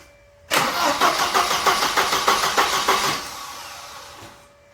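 A Volvo 945 that has sat unused for over seven years cranks with a rapid, even chugging of the starter, about a dozen pulses over roughly two and a half seconds, loud and close, then winds down without catching.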